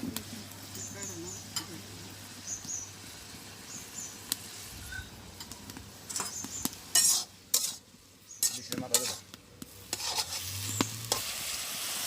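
Chili goes into a hot pan in a village kitchen, bursts of sizzling and scraping stirring with clinks of a utensil against the pan, over a low steady background hum.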